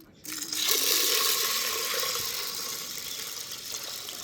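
Water streams steadily into a metal cooker nearby, a continuous splashing pour that begins abruptly and holds for several seconds.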